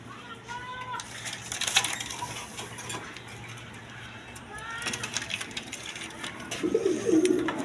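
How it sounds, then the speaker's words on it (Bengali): Rajgola pigeons on a farm give low, soft coos over a busy background of faint clinks and movement, with the clearest cooing toward the end. "এখানে এক পেয়ার কালারিং রাজগোলা কবুতর আছে"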